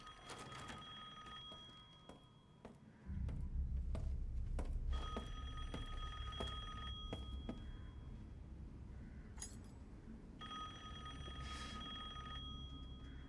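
A telephone rings in the video game Resident Evil Village, sounding in repeated bursts of bright metallic bell trills separated by short pauses, over a low ambient rumble.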